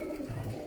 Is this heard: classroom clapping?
no